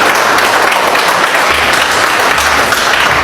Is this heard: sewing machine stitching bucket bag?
no